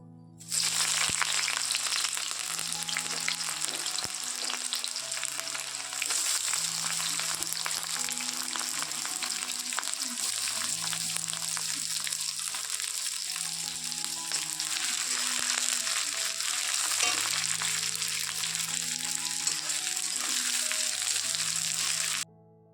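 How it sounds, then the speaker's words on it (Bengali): Onions and ginger garlic paste fry in a kadai for mutton curry, a steady close sizzle that runs throughout, with background music playing over it. "তারপরে কিন্তু আমি পেঁয়াজ দিয়ে হালকা ভেজে এখন আমি দিয়ে দিলাম আদা রসুন পেস্ট"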